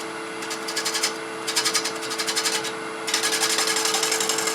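Negative rake scraper taking very light cuts on wood spinning on a lathe, a rhythmic scraping hiss in repeated passes over a steady motor hum, close and fairly loud.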